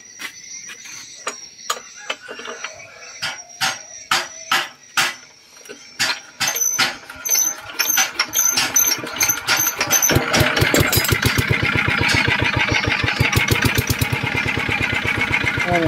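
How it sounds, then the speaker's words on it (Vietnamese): A Zanma NS50 motorbike engine with a worn bearing runs close by, starting with sparse irregular knocks and pops, then settling into a rapid, steady ticking rattle as it revs up. "Máy này theo như em nhận xét là nó lỏng bạc thôi nè."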